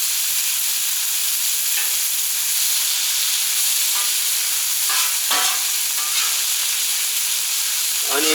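Onions fry on a Camp Chef burner for a cheesesteak, a steady loud sizzle and hiss throughout, with occasional scraping and stirring clatters of a spatula on the griddle.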